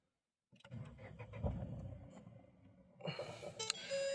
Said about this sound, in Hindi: तो करते हैं कार को स्टार्ट।